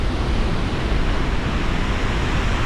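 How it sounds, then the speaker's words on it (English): High Force waterfall rushes in a loud, continuous broadband roar, close and steady with no voices, a constant wash of falling water. "So the waterfall is pretty cool."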